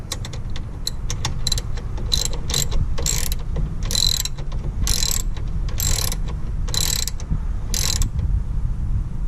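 A ratchet wrench tightening a steering tie rod, rapid clicking bursts in short repeated strokes over a low background hum, close and clear, without talking.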